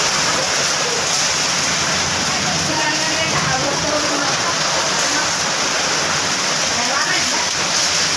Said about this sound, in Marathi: आता बाहेर खूप पाऊस चालू झालेला आहे